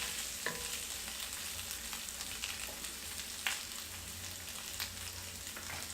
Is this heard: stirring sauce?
yes